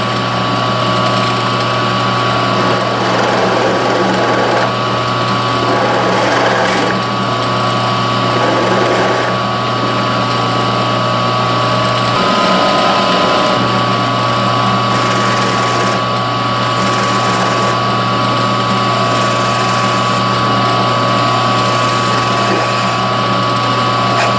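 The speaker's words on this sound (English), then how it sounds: "and then drill my through holes." A power drill bores through holes in a wooden shooting plane board, a loud, steady whine that runs continuously for a long stretch with slight shifts in pitch.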